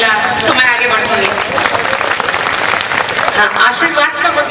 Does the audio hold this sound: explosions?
no